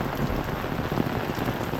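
Heavy rain driven by wind pours down in a dense, unbroken roar, close and loud throughout.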